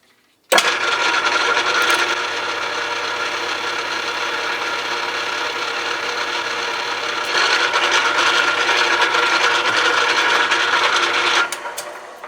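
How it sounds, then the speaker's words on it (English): A drill working through brass held in an old Jacobs chuck, a steady, loud, close grinding and rasping whir that starts abruptly, holds for about eleven seconds, swells slightly partway, then cuts off, with no voices. "I can carry on drilling that now"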